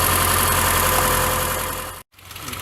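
A Subaru 2.5L engine runs steadily at idle after an oil sender repair, giving a continuous mechanical drone with a low hum that breaks off for an instant near the end and then resumes.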